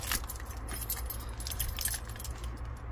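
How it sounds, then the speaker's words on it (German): A big, heavy bunch of keys on a leather loop jangles continuously, close and bright, with a low engine-like hum running underneath. "also ich habe hier schon mal erstmal einen richtig fetten Schlüsselbund"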